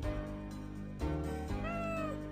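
A cat meows twice, clear and fairly close, the second call rising and falling, over a steady background hum with no talk.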